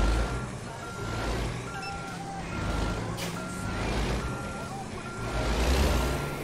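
A truck pulling two trailers reverses in American Truck Simulator, its backup alarm beeping steadily over a loud, continuous engine rumble.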